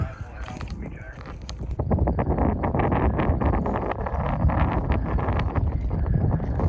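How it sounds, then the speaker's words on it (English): Gusty desert wind buffets the microphone with a low rumbling roar, strengthening partway through, over scattered rustles and clattering knocks. "the wind is picking up"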